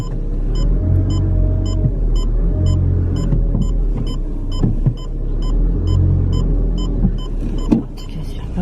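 A car drives on a road with a steady low rumble and engine hum, interior noises and a soft periodic ticking like a turn signal, with brief bumps near the end.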